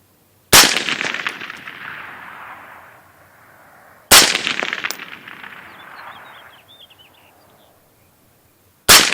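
Three loud, sharp rifle shots of M855 green tip ammunition ring out a few seconds apart, each followed by a long fading echo, with no talking.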